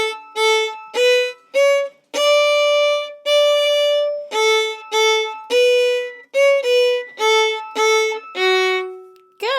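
A fiddle plays the B section of the tune She Said She Couldn't Dance as a run of short bowed notes with a few held longer ones, close and loud in a lively steady rhythm with no talking.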